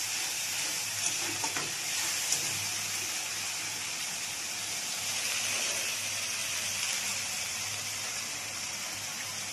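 A spice-paste gravy of cumin paste, chilli and turmeric powder fries in a pan, giving a continuous bright hiss of sizzling oil with a few light stirring knocks, steady and close without any talk.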